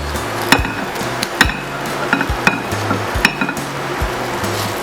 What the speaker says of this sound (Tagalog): Ilalagay lang natin ang ating mashed potato. Imimix lang natin sila.